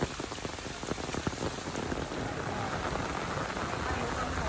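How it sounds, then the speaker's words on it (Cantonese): Heavy rain pours down on a hillside hiking trail, a dense, steady hiss of drops drumming close by with runoff water rushing underneath, loud and unbroken throughout. "依家啲雨勢啊，好密啊！"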